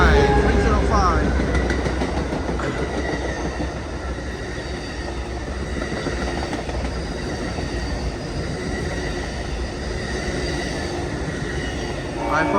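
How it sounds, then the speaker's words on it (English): Amtrak Coast Starlight passenger train #14, led by a P42 locomotive, rolling past the Oakland Coliseum station with a steady loud rumble and rattling wheels, no horn. "All right, folks, look at that train."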